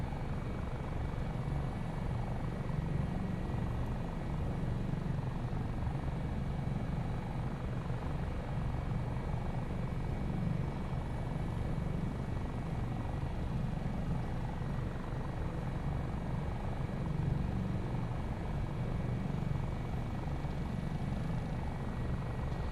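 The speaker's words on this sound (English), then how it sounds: "it's a beautiful helicopter, isn't it? Seriously, beautiful helicopter." An AS365 N2 Dauphin helicopter of 658 Squadron AAC with its engine and rotors running, a steady continuous low thrum and whine heard at moderate distance without talk.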